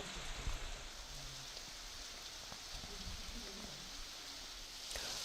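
Continuous heavy monsoon rain falling in a hilly rural area, a steady, even hiss of downpour throughout with a few louder splashes near the start and end.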